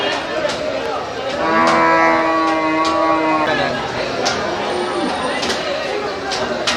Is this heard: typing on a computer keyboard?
no